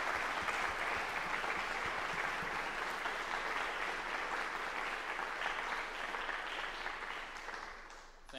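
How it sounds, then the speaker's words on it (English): An audience at a benefit concert for patients gives a round of applause, dense steady clapping at moderate volume that gradually thins and fades near the close. "Can I just have a round of applause, please"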